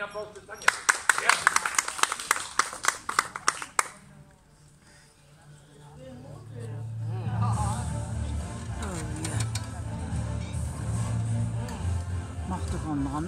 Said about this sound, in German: Ein Applaus für Tanja